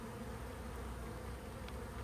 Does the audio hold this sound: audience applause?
no